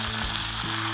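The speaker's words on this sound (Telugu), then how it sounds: "నూనె వేడెక్కింది కదా, ఇందులో శనగపప్పు, ఆవాలు వేద్దాము." Chana dal and mustard seeds sizzle in hot oil for a South Indian tempering, a steady loud crackling fry close up with a low hum underneath.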